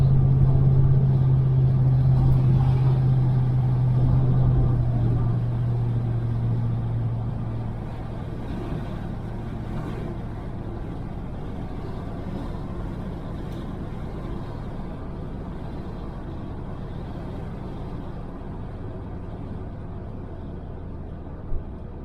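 A 1968 Chevelle Nomad under restoration driving on the road after decades off it, a loud close engine and road rumble with a strong steady drone that eases after several seconds into a continuous lower cruising roar, no voices.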